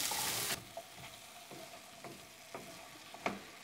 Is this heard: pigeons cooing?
no